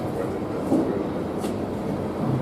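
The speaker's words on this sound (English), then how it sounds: "Sorry, Steve, that train is really, if we can lower that." A train passes outside a hall where a live sheriff's debate is on in McCreary County, Kentucky, a steady low rumble and rattle that holds throughout under murmured talk.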